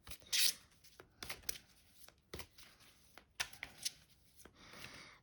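Tarot cards being shuffled and drawn from a deck, with soft, close papery riffles and rubs coming in short bursts and scattered flicks throughout, no talking.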